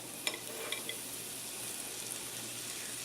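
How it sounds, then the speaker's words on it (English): Chorizo hits a preheated non-stick pan and gives off a steady, close hiss of sizzling grease, with a few small clicks and pops near the start. "my pan has preheated already, so we're going to go ahead and add our chorizo"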